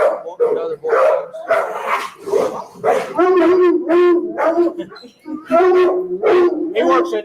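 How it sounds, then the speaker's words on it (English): Black Labrador police detection dog barking, yipping and whimpering in repeated loud close bursts with short pauses between. "Deputy Michael Lawrence with his black lab Riley."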